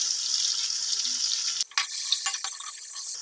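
Garlic ginger paste sizzles steadily in a hot pan of spiced oil for aloo pulao, with a soft stirring scrape partway through and the frying continuing underneath; it is fairly quiet and close, with no voices.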